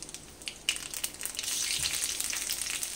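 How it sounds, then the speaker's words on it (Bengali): Nigella seeds hit hot mustard oil in a pan, crackling with scattered pops that swell into a continuous, fuller sizzle about halfway through, close by and without talk. "ওই তেলের মধ্যে আমি এই ছোট চামচের 1 চামচ কালো জিরে দিয়ে দিচ্ছি"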